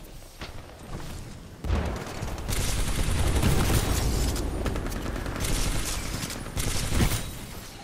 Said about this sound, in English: Nice Kraber shot, Ryu.